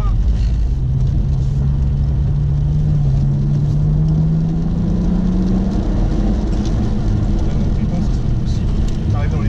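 A stock BMW 135i with no limited-slip differential drifts, its engine holding a steady loud drone that rises slightly in pitch, with people talking over it throughout.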